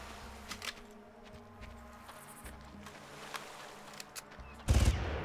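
Gunshots in the video game Far Cry: a faint scatter of short cracks over a low background hum, ending in a louder close burst of fire.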